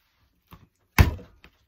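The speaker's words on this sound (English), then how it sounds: "First thing you have to do with clay is bang it a couple of times." A lump of modelling clay is banged down on a surface, giving one firm dull thunk after a couple of soft lighter knocks, close and otherwise quiet.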